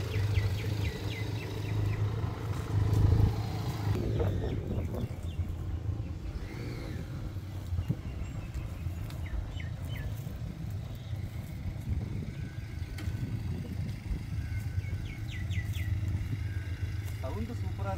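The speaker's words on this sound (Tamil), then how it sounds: "சவுண்டு சூப்பராக இருக்குல்ல, பெனலில் டாப்பு சவுண்டு தான்" Benelli motorcycle engine droning steadily while riding on an open coastal road in a group ride, a continuous low rumble with wind noise and occasional rev swells, with people talking over it.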